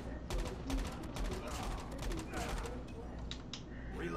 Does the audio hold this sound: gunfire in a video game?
yes